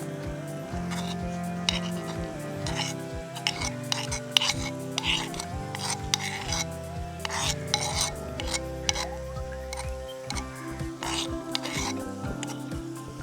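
Beetroot stirred into sautéed onion and green chili in a pan, repeated scraping and clattering strokes of a utensil with uneven rhythm, close and moderately loud, with music playing underneath.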